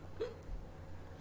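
A single faint hiccup-like catch of breath, brief and soft against quiet room background.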